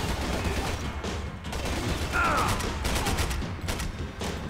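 Gunfire rattles during an airport assault in the video game Max Payne 3, with rapid bursts of shots and clattering mechanical noise. The bursts come in uneven clusters over a steady, loud background.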